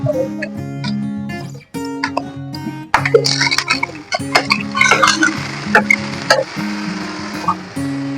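Chopped tomatoes tossed into browned onions and green chillies frying in oil in a pan, with a sizzle and scraping stirs and clinks of a utensil against the pan, heard close over a steady low kitchen hum.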